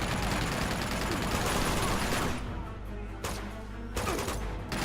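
Rapid turret gunfire in Uncharted 2 rattles in a loud, continuous burst that stops abruptly, then starts again in shorter bursts with brief gaps between them.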